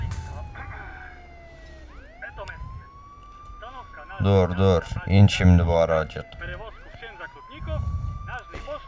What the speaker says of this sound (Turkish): Kapat şu sireni, oh be.